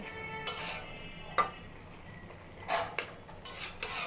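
A spoon scrapes and knocks against a metal pot while bottle gourd cooked with hilsa fish head is stirred, a few sharp clinks and scrapes spaced irregularly over a quiet, faintly sizzling background.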